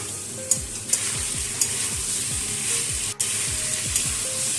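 Yam and prawn curry frying and being stirred in a pan over medium heat, a continuous sizzle broken by regular spatula scrapes about twice a second, with a few sharp clinks, no talking.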